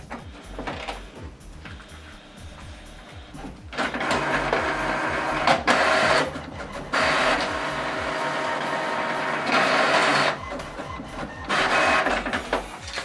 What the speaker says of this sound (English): So now this document is going to print out double-sided.